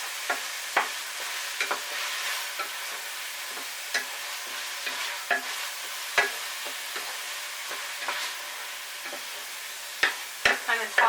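Food stirred in a frying pan over a light sizzle, with a spatula knocking and scraping the pan in irregular close taps throughout.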